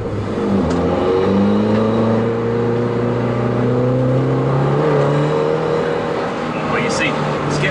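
A road-legal R56 Mini Challenge car with 280 bhp accelerates hard out of a corner, its engine note climbing through gears from inside the cabin, loud and continuous with a voice talking over it.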